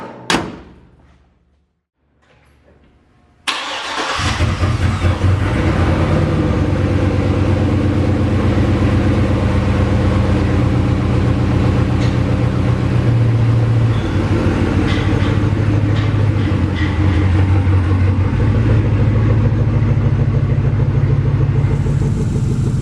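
A 1965 Chevy C10 swapped onto a Trailblazer SS chassis starts up after a few quiet seconds, then idles loud and close with a steady, deep engine rumble that holds for the rest of the clip.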